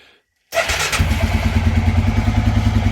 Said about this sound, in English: New belt is on. She starts right up.